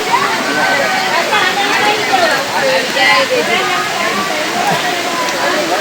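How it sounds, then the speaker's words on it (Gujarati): A dense, steady rush of rainwater pouring down as a waterfall near Girnar in Junagadh fills the scene, with people talking over the constant roar. "આ તો શું વરસાદનું પાણી જે આવે ને એનો વોટરફ્લો થાય છે"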